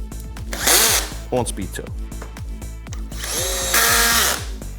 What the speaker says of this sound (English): at speed 3, we're pretty much getting full penetration of this 1 5/8 drywall fastener into our 2x4s